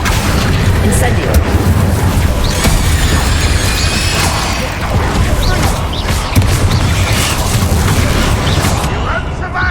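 An Incendio fire spell in Hogwarts Legacy erupts in a loud, dense roaring blast of flame and crackle with booming game effects, sustained throughout, with a voice speaking amid the din.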